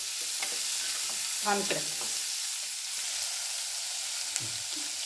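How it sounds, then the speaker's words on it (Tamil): Sliced onions sautéing in oil for poori masala give a constant loud sizzle with soft stirring scrapes, and a brief spoken word passes over it. "இது நல்லா வெங்காயம் வதங்குற வரைக்கும்"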